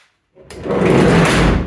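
Sliding door on a VW bus rolling along its track and closing, a single rushing, rattling slide about a second long, close and loud.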